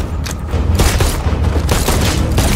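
Bursts of gunfire and heavy explosive booms from an RPG attack in an action war film, loud and continuous with repeated sharp impacts over a rumbling low end.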